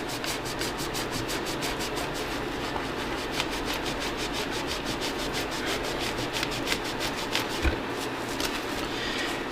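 Steady back-and-forth rubbing of a microfiber cloth with Dunlop 65 cleaner over the frets of a Gretsch Electromatic Pro Jet guitar, a dense, even scrubbing texture with quick repeated strokes, close up and continuous throughout.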